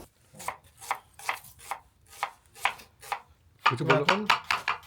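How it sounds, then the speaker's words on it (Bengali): Rhythmic knife chops on a board as onions are cut at an outdoor picnic, a steady series of crisp strokes, then faster, louder chopping at the end. "পেঁয়াজ কাটা চলছে জোর কদমে"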